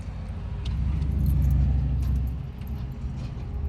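Car keys jangle briefly as they are slid into a car's ignition, a light metallic rattle over a steady low in-cabin rumble.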